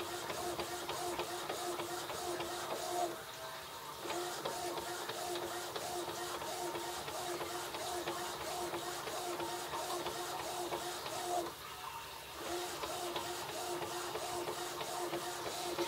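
An Epson XP-235 inkjet printer fitted with a continuous ink system runs with its lid open, giving a steady rhythmic whirr of print-head passes with brief pauses as the paper advances, close and alone.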